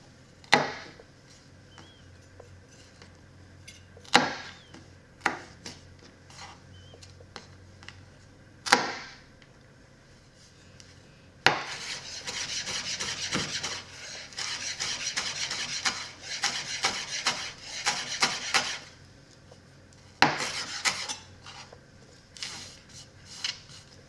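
Fresh dill cut with a knife on a board: a few isolated sharp chops, then a dense run of rapid chopping strokes, ending with a couple more single cuts, close and fairly loud.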